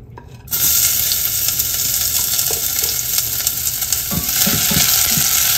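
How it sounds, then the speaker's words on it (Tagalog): Garlic hits hot oil in a pot for beef caldereta and breaks into a loud, continuous sizzle just after a quiet start, with a few stirring clinks and scrapes near the end and no voices. "Golden brown po natin itong bawang."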